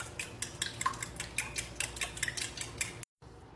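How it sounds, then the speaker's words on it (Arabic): A utensil works through an egg and milk mixture in a bowl for toast fingers: a quick run of close clinking and scraping strokes in a steady rhythm, then a short break of silence, with no talk. "لازم تخلطون هذا زين أول شيء"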